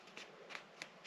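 Soft gridded paper notebook from the Boston Fiber Company being handled, three quick papery rustles as pages flick, quiet and close.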